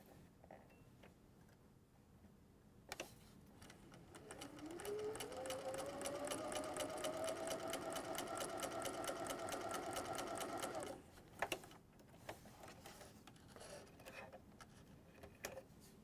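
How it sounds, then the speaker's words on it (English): Sewing machine joining fabric pincushion pieces with a quarter-inch seam, a steady rapid stitching run of about seven seconds that speeds up at the start, quiet and close, framed by faint handling clicks. "Use a 1/4-inch seam and sew them in whatever order you like."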